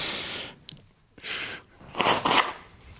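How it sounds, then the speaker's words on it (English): A person blows their nose hard onto a shirt cuff: a short snort, then a longer breathy blast, then a loud double honk at the end, close and alone with no talking. "I'm practicing good hygiene and blowing my nose onto the cuff of my shirt."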